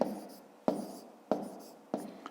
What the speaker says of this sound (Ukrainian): давайте десь тут збоку будемо записувати